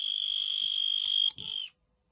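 Shrill continuous beep from a small 5-volt piezo buzzer added to a K2 EMF meter, loud and close, with a brief click and dip before it resumes and then stops abruptly, followed by silence.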